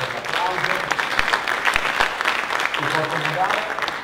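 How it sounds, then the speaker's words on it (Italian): An audience applauds at a World Space Week event honouring excellence from the Marche region, sustained dense clapping close and fairly loud throughout, with a voice speaking over it. "grazie per l'applauso"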